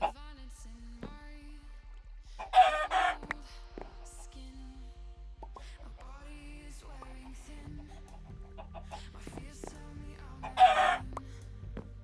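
Minecraft chickens clucking in a short burst near 2.5 seconds and again near 10.5 seconds, over quiet game background with soft repeated tones and no talk.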